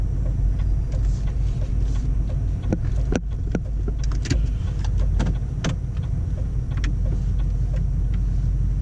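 A learner driver's automatic car rolls to a stop at the roadside, with a steady low engine and road rumble inside the cabin and scattered small clicks and knocks throughout.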